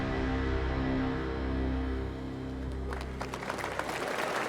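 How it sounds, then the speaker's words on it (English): Tepid applause from a Summer Game Fest 2023 audience, a thin scatter of claps rising over a low steady hum in the last second or so, modest and brief. "yeah, a little muted applause"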